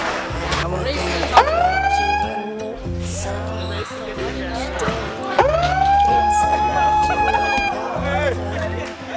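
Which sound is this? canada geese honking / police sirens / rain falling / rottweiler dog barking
police sirens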